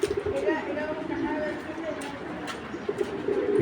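A pigeon coos in low repeated calls close by as someone speaks over it, with faint chirps scattered in the background.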